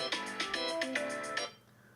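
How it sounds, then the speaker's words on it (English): A phone alarm rings in a short run of bright repeating electronic tones, about six pulses, then stops abruptly, leaving quiet. "Oh, that's my alarm."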